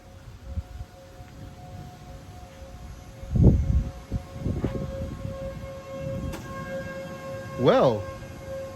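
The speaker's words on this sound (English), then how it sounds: "I heard the sirens go off" Civil defense sirens sound for a tornado warning in northern Rock County, a distant wailing tone under background noise, while people talk nearby with a few bumps and a short rising whoop near the end.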